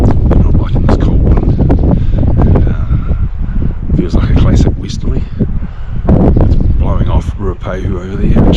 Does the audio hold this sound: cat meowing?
no